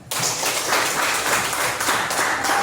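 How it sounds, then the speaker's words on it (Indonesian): A classroom of students breaks into lively applause for a classmate, dense clapping rising quickly and holding steady, with a few voices mixed in. "kita berikan aplaus dulu untuk temannya"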